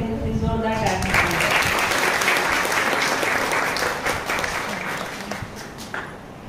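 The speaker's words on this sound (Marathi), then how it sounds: "कृपया करून जोरदार टाळ्या." A church congregation at a Marathi-language service breaks into sustained applause right after a short spoken phrase, the clapping staying full for several seconds before tapering off.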